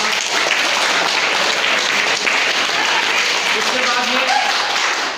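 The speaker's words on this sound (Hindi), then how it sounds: "ताली बजाओ बच्चों के लिए" A crowd breaks into loud, sustained applause for schoolchildren acting out Rajasthan's freedom fighters during a no-bag-day activity, clapping dense and continuous throughout.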